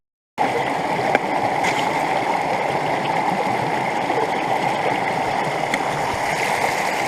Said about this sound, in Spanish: El río está ahí abajo, 10 metros más abajo o más, 12 metros